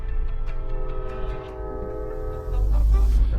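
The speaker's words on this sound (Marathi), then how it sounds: "भाई ट्रेन चालली आहे समोर" A vintage train rumbles past close by, with a steady sustained horn tone over heavy low rolling noise that swells louder near the end.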